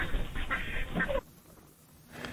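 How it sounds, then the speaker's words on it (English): Ducks quack in a dense burst for just over a second, loud and close, then drop away to quiet background before a faint stir returns. "Is it ducks?"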